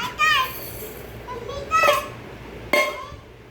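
A little girl plays with her toy pots and dishes, short bursts of lively child chatter mixed with light clinks of small kitchenware in three separate spurts.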